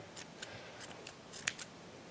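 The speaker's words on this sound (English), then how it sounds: "I need more scissors. These scissors are not doing very well." Old scissors trim strands on a yarn craft figure, a handful of quick, crisp snips spaced irregularly, with one sharper cut near the end, close and fairly quiet.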